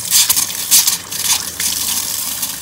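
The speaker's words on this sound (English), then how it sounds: "And let's turn on the faucet." Water gushes loudly from an RV bathroom faucet after a ShurFlo water pump repair, splashing in uneven surges at close range with no talk.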